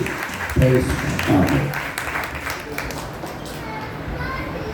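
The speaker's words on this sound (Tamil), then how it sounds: "உற்சாக கைத்தட்டி நல்ல தட்டி தட்டி தட்டி" A church congregation at a prayer house breaks into applause to welcome a speaker, a dense patter of clapping rising in two bursts near the start and then thinning, with voices and children mixed through the crowd.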